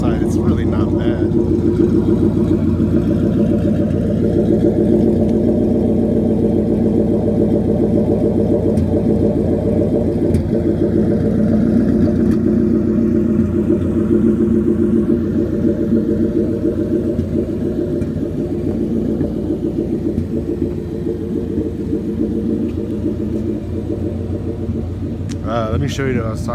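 A Mustang engine idles with a deep, continuous exhaust rumble and whir, loud and steady at close range throughout, with only slight swells in level.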